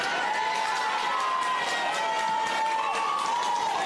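Crowd at a night rugby league match between Darwin Brothers and Northern Sharks, a continuous broad wash of cheering with a sustained whistle-like tone rising and falling over it, loud and steady throughout.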